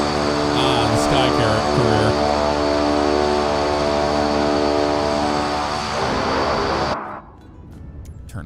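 A simulated aircraft engine in Microsoft Flight Simulator 2024 drones steadily and loudly with dense tonal harmonics, then cuts abruptly after about seven seconds, leaving a quieter hum.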